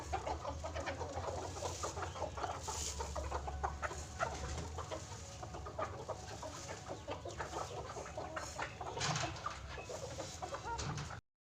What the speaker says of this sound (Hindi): मैं मुर्गी को दाना दे रही थी